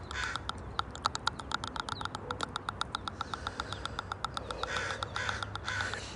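Crows caw repeatedly in quick rhythmic bursts, a flock calling clearly over quiet outdoor background, with a few calls overlapping and a soft rustle late on.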